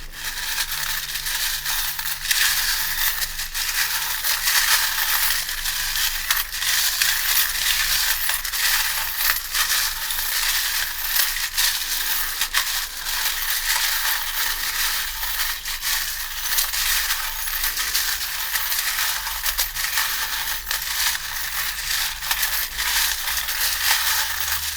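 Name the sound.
tarot charms being cast and rattled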